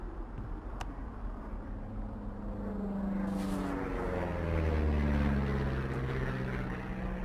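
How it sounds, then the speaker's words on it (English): An airplane flies overhead in the wilderness video game Firewatch, its low engine drone slowly swelling louder and rising in pitch before easing off, heard alone with no voices. "You see that plane?"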